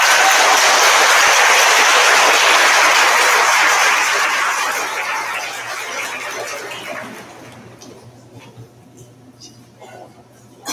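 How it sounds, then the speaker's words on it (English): Applause from an audience at a high school awards day ceremony, a loud sustained wash of clapping that gradually fades out over several seconds, leaving quieter room sounds. "Give this group a round of applause."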